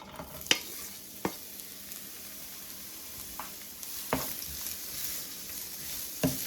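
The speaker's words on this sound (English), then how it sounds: "First, I'm going in with my onion and garlic." Onion and garlic sauté in a pan with a soft, even sizzle, punctuated by several sharp spoon clicks and knocks against the pan. Fairly quiet, with no voices.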